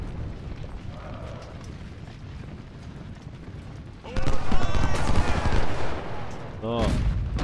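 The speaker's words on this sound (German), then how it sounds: "Dann kriegt er auch gleich eine Kanone auf den Kopf geschossen hier." Cannon fire in the Ultimate General: Civil War battle at Chancellorsville: a low battlefield rumble, then a loud burst of booming, crackling gunfire with a short ringing tone, and someone talks over the din.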